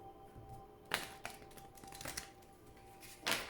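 Quiet handling of oracle cards being shuffled, with soft papery riffles and taps in a few separate bursts over a faint steady hum.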